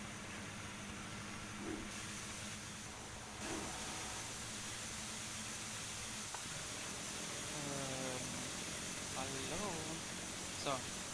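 Fire hose valves spraying water in the Feuerwehr Simulator video game: a steady, loud hissing rush running throughout, with faint tonal chirps and short sweeps layered on top.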